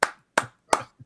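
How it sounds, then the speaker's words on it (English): Three sharp, evenly spaced hand claps, then a softer fourth, a slow and deliberately polite golf clap, close and dry with no talk. "Golf clap."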